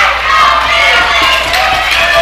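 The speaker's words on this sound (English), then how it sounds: "this crowd getting louder and louder" A wrestling crowd in a rowdy arena during a bullrope title match cheers and roars steadily, a loud, dense wall of voices close around.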